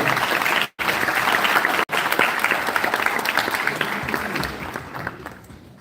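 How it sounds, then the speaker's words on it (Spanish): Loud applause from a conference audience greeting the speaker at an inaugural lecture, dense clapping cut by two brief dropouts, then gradually thinning and fading toward the end. "Un aplauso y comenzamos entonces nuestra actividad"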